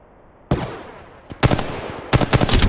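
Gunfire in the Apex Legends Mobile battle royale game: a sharp shot opens a rattling burst, then two dense rapid-fire automatic volleys crackle loudly and close, with no talking.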